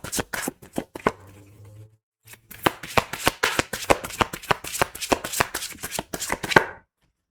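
A deck of oracle cards being shuffled for a tarot reading, a rapid series of crisp flapping riffles and taps, close up, briefly pausing before a fast dense run, with no voice.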